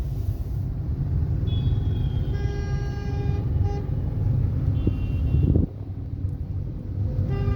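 A car during a driving lesson gives a steady low engine and road rumble, with brief horn toots from nearby traffic partway through, then a short drop in level before the rumble returns.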